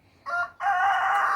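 A rooster on a small homestead crows twice, a short call followed by a longer drawn-out crow, moderately close in a quiet outdoor setting with no talking.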